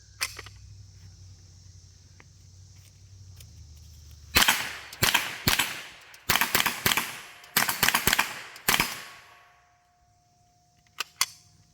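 A tactical-stocked Ruger 10/22 .22 rifle fires a string of sharp, snappy shots outdoors, irregularly spaced in quick clusters after a quiet lead-in, with two more cracks near the end.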